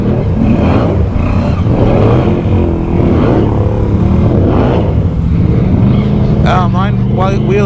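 A 2020 Can-Am Outlander XMR ATV with a swapped-in 850 engine runs with a steady, close engine drone throughout while people talk over it.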